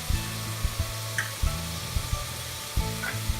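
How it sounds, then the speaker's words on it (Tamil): Turmeric, cumin, fennel and pepper powders sizzle and fry in hot oil for mutton chops, a steady close crackle with soft stirring knocks and scrapes at irregular intervals, no talk. "இது மாதிரி எண்ணெயிலே மசாலாலாம் வதங்கிறதுனால நல்லா இருக்கும்."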